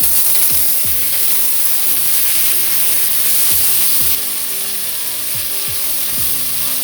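Broccoli, thyme, carrot and green onion sautéing in oil on a low flame, a loud constant sizzle with repeated scraping sweeps of a utensil across the pan.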